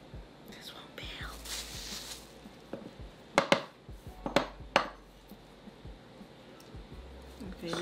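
A sharp knife slices food into thin pieces on a board, a short cluster of crisp taps in the middle, with quiet whispering voices underneath.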